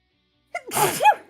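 A single sudden sneeze after a moment of silence, close and clear.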